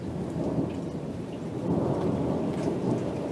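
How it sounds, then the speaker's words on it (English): Hail and heavy rain pound down during a 2020 thunderstorm, a loud dense rushing clatter with a low rumbling undertone that stays steady throughout, with no speech. "Sounds like it's starting to hail."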